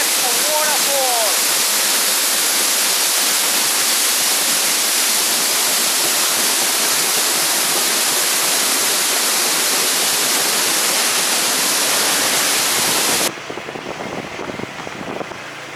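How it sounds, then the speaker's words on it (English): A waterfall in Bali or Lombok roars loudly and continuously, a dense unbroken rush heard up close, with a brief high call near the start and the roar dropping away abruptly at the end. "That's the waterfall!"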